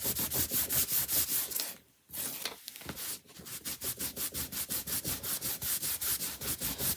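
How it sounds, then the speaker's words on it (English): Steady rhythmic rubbing of wax being buffed into a wooden piece by hand, with repeated back-and-forth strokes, a short pause partway through, then the even rubbing strokes resume, close and continuous. "The more I am rubbing and buffing it, it's working that wax into all the wood crevices"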